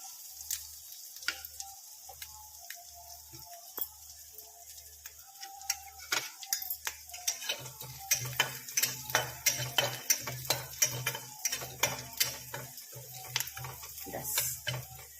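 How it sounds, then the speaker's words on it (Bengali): Onion-free masala being fried and stirred in a pan at home, with steady close sizzling under repeated spoon scrapes and clinks that grow busier and louder in the second half. "সুন্দর অ্যারোমা আসবে ততক্ষণ এটাকে একটু ফ্রাই করে নেব"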